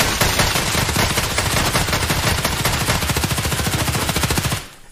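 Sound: video game gunfire shooting windows in Escape From Tarkov

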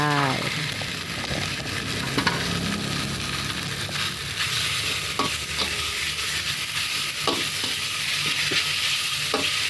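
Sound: pork stir-frying in red curry paste

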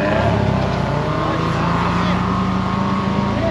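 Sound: 4x4 car engine straining up a sand dune in first gear

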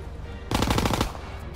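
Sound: gunfire in video game Call of Duty WWII

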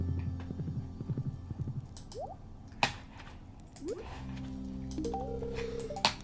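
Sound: horse hooves clip-clopping in a video game

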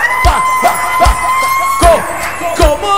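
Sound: concert audience clapping and cheering

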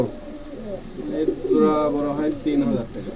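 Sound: pigeons cooing at a pigeon market

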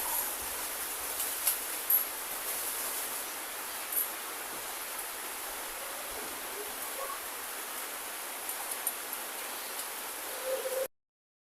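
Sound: rain falling outside

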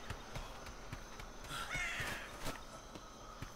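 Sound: seagull squawking, from the video game Atlas

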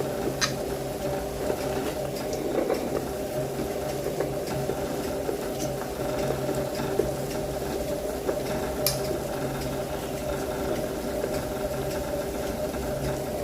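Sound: mixer grinder spinning coconut to release its milk

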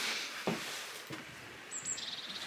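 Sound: birds singing in forest

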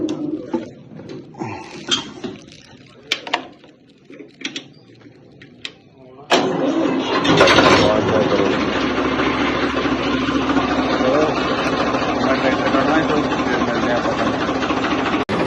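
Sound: Farmtrac tractor engine starting and idling

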